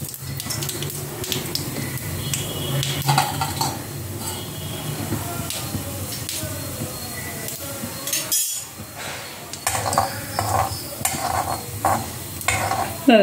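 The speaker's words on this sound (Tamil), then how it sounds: "கடுகு போட்டு உளுத்தம்பருப்பு, கடலைப்பருப்பு போட்டு சின்னது பண்ணிட்டேன்." Mustard seeds, urad dal and chana dal tempering in hot oil in a home kitchen, a steady sizzle and crackle under repeated stirring and clinks of utensils against the pan, with a brief quiet gap midway.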